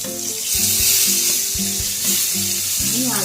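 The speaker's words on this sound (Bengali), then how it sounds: "দেখতে পাচ্ছ তেলটা পুরো গরম হয়ে গেছে। এবার একে একে আমি ডিমগুলো এইভাবে দিয়ে দেবো।" Eggs fry in hot oil on a tawa with a loud, bright, continuous sizzle, punctuated by a few knocks and scrapes of a utensil against the pan, close up.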